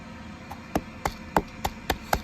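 Dried clay is crushed into powder with rhythmic pounding, seven sharp thuds at roughly even intervals over a faint background hum.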